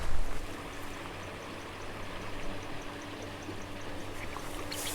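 A Black Hills creek flows in a soft, continuous wash of water, a fairly quiet steady rush with a slightly louder burst at the very start and no voices.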